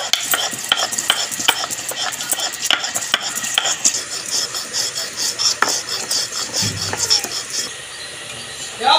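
Whole garam masala is ground on a shil-nora stone slab, making rhythmic rasping strokes and gritty scrapes close by that fade into a quieter pause near the end.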